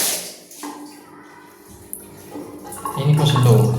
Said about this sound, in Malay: Singki dengan ni ada tapi air tak kuat mana.